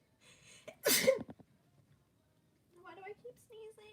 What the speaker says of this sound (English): keep sneezing